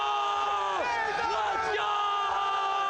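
A large live esports event crowd cheers and hypes for FaZe Clan, a loud sustained roar of many voices with whoops and rising yells swelling throughout.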